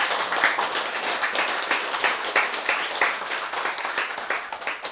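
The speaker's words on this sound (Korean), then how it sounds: "박수." A lecture audience claps at a science talk on genes, producing dense, continuous applause of many hands at a fairly loud, steady level with no voices.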